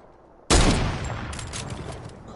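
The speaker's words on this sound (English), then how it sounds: "I have a hunting rifle too" Hunting rifle gunfire in the Fortnite video game: one sharp, loud shot followed by a decaying echoing tail, with no talk.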